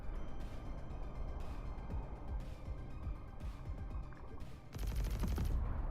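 Weapon fire in the video game Desecrators, with rapid repeated shots rattling over a steady rumbling background and a louder, brighter burst near the end.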